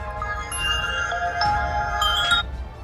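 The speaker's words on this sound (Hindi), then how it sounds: "बेल बंद कर लें मोबाइल की" A mobile phone ringtone plays a steady electronic melody of bright tonal notes, fairly loud and continuous for about three seconds, over low background hum.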